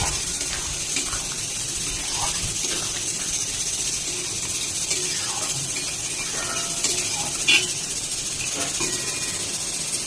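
Egg and paneer with capsicum frying in a hot pan, giving a steady close hiss and sizzle that goes on for about ten seconds with small pops scattered through it.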